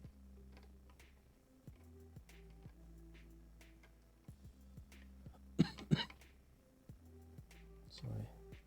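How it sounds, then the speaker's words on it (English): A few sharp coughs come near the middle during a Yamaha MT-09 2022 windscreen install, separated by quiet stretches and faint ticking and handling noises in the background. "being sick, so I hope this coughing is disappearing soon"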